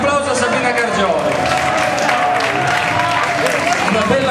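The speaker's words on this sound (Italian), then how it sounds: "un applauso a Sabrina Gargioli" Steady applause from a crowd at a Hawaiian shirt contest prize-giving fills the whole stretch, dense and continuous, with an Italian voice speaking over it.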